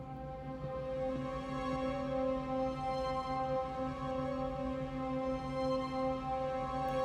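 A free orchestra plugin playing in a music mix, giving a steady sustained chord of held string-like tones at low, even volume with no talking over it.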